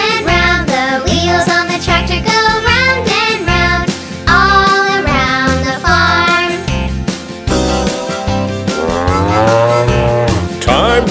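Old milk cow moos in a children's farm nursery rhyme, sung by voices imitating the lowing over upbeat cartoon music, with repeated drawn-out moo phrases throughout.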